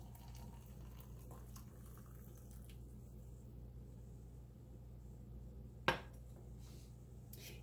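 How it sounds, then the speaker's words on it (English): Boiling water is poured over a herbal tea bag in a cup, a soft steady liquid trickle under low background hiss, with one sharp clink near the end. "Then I just pour it over there, over the tea bag."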